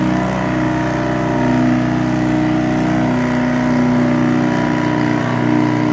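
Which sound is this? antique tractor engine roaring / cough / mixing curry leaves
antique tractor engine roaring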